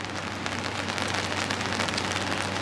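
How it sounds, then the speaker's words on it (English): Steady rain pours down on a rare cold, rainy day in St. Cloud, Florida, a dense continuous hiss of drops hitting surfaces, with a low constant hum underneath and no voices. "it's a rainy day, a rare cold and rainy day here in Florida"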